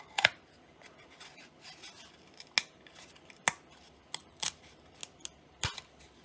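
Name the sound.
dull blade cutting through super glue on RC plane build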